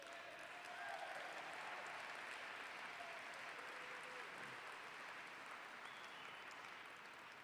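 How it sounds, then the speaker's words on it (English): A steady wash of applause from a crowd at a scholarship fund gala, sustained and even throughout, heard at a moderate distance. "who deserves our applause"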